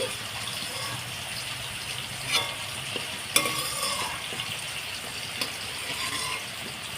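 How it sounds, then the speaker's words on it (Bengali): Fried onions sit in hot oil, giving a continuous close sizzle, while a utensil stirs and lifts them out with a few scraping clinks, the loudest at mid-clip, and no one speaks. "দেখুন এইভাবে আমি বেরেস্তাটাকে ভেজে নিয়েছি এবার আমি তুলে নিচ্ছি"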